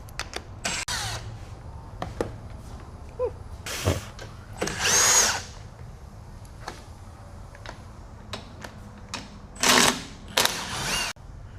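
Power tool zipping out factory roof bolts on a Polaris Ranger 1500 during a rack install, with several short bursts of whirring among scattered clicks and handling noise, fairly close.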